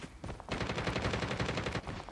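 Rapid automatic gunfire in a video game shooter, a dense burst of overlapping shots running steadily for nearly two seconds after a brief lead-in.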